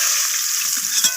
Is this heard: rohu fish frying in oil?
yes